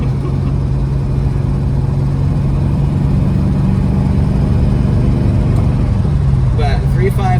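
A 1988 Ford Mustang LX 5.0 notchback cruising on the road, a loud steady engine drone with constant low rumble throughout, faint voices near the end.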